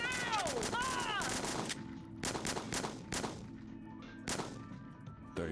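A rapid burst of gunfire from the video game El Paso, Elsewhere, roughly thirty shots, rings out as loud, sharp cracks in quick succession, accompanied by a strained voice and game effects.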